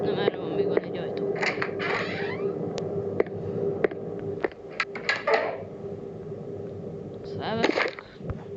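A door creaks open in a horror-style shooter video game, with several drawn-out creaks and small mechanical clicks sounding close, while a player occasionally talks over them.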